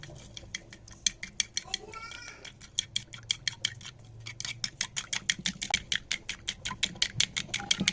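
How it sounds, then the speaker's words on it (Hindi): A whisk or fork beats a spiced egg mixture with red chili and salt for chicken nuggets, rapid steady clicking against the bowl, close and fairly quiet, speeding up toward the end. "अच्छी तरह से फेंट लेते हैं इसको।"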